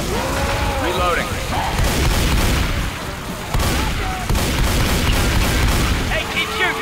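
Dense, loud gunfire from Left 4 Dead 2 pounds almost continuously in overlapping shots and booms, with characters shouting and talking over the shooting.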